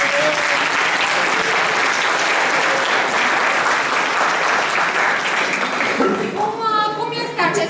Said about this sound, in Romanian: Să o chemăm aici, să aplaudăm.